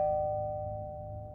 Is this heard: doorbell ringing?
yes